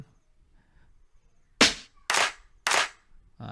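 Three sharp, snappy hip-hop drum machine clap hits in a row, evenly spaced and loud against near silence, with a fourth just starting at the end.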